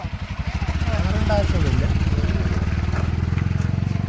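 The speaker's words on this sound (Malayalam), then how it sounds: "ഒരു ബൈക്ക് പോയി" A motorcycle engine putters nearby with a steady, rapid thrum, swelling slightly as it passes, while people talk over it.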